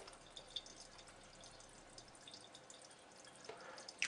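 Water from a Jupiter Neptune/Mavello JP101 ionizer trickles and drips into a test tube, a faint, steady stream with small splashes building toward a louder spatter at the end, no voices.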